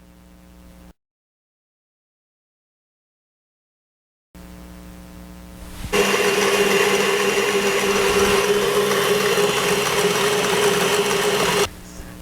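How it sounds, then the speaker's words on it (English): An electric mixer whisks a frothy sponge cake batter for a Victorian sponge cake, starting up after a short silence and then running as a steady, loud motor whir for several seconds before cutting off. "Let's bring back the electric mixer"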